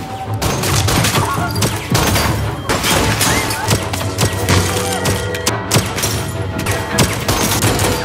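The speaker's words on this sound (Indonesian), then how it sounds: "Dan John keluar dari lift langsung menembak. Alba merebut dokumen itu. Mencoba kabur, tapi dia jadi korban. Baku tembak terjadi." A dense fusillade of gunfire rings out during a film shootout as people burst from an elevator and a firefight breaks out, with loud, continuous rapid shots and booms packed together under a dramatic soundtrack.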